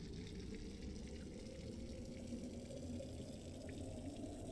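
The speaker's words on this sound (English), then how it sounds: "I need to go fill water jugs." Water filling jugs during the task in the Among Us video game, a steady low pouring rush that runs continuously and quietly throughout.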